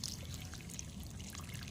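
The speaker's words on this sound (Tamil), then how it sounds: "இதில் தண்ணி ஊற்றுங்க" Water is poured steadily into adenium potting mix, a faint, soft trickle running continuously at close range.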